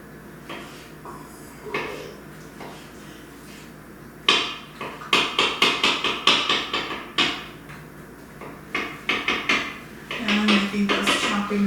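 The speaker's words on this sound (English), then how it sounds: "Those chopping noises on the block." Food such as onions is chopped with a knife on a wooden cutting block in a home kitchen, a close, loud run of rhythmic sharp knocks in bursts, with quieter handling noises in between.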